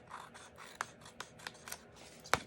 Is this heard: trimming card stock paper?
yes